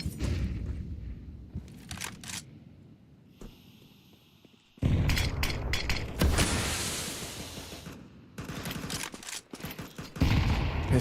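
Bursts of gunfire spraying through a wall in Counter-Strike 2, loud clustered automatic shots separated by quieter gaps with mechanical clicks and a muffled stretch in between.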